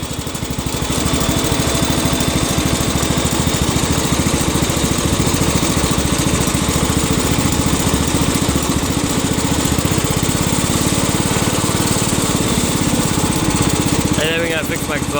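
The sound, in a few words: 1967 Cub Cadet 102 lawn tractor engine running after cold start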